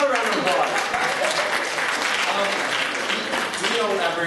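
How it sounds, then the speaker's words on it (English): A classroom audience at an MIT web UI/UX design course claps for a team, a dense, steady wash of applause lasting several seconds, with some talk mixed in. "Let's give them a round of applause."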